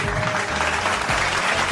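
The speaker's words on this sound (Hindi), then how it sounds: "भी बहुत सारी तालियां होनी चाहिए।" A studio audience at a Ramadan quiz show for the blind community claps in a brief, dense burst of applause, loud and continuous throughout.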